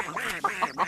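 Cartoon ducks on a pond quacking, three or four close, clear nasal quacks in quick succession with no talk over them.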